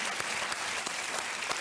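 A TV quiz show studio audience gives steady, dense applause with no pauses, a full crowd clapping close up for the whole short stretch.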